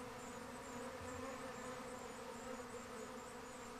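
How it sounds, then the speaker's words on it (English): A honey bee swarm (Apis mellifera) buzzes steadily at the hive, a dense continuous droning hum from many insects close by, with no talking. "And that's now what houses the bees."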